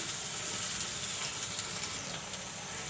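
Onions and chilies fry steadily in a pan while dried poa fish (shutki) is being cooked, giving a continuous soft hiss and crackle, fairly faint and even throughout with no talking.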